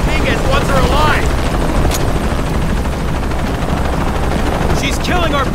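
Helicopter rotor drone from a Tomb Raider action game, a steady loud whirring hum running throughout under in-game voices and brief combat effects.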